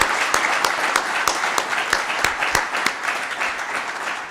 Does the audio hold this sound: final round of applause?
yes